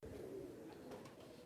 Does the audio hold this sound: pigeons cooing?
yes